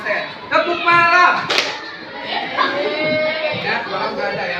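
Children in a classroom clap along in a chanted clapping game, with bursts of hand claps between the voices of a teacher and the children.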